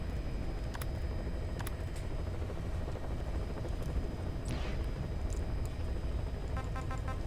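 A helicopter in Metal Gear Solid V: Ground Zeroes gives a steady, loud rotor and engine drone throughout, with faint clicks and brief electronic game sounds over it.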